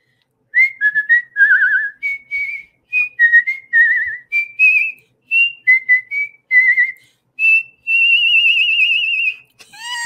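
A person whistles a simple melodic tune solo, with clear sustained and gliding notes in short phrases separated by brief pauses, close and fairly loud, ending in a long held note.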